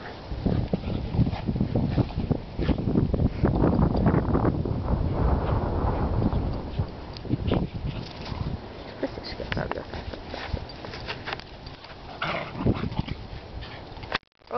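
Shetland sheepdogs play and run around a park, with scrabbling movement and brief dog sounds heard close by under steady wind noise, while people talk throughout.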